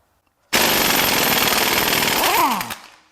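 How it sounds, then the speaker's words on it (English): Impact wrench fitted with an Ingersoll Rand weighted socket hammers loose the crank pulley on a Nissan Frontier 3.8L V6, one loud, continuous rattling burst of about two seconds, close and alone, cutting off abruptly. "time for the weighted socket. These are Ingersoll Rand weighted sockets."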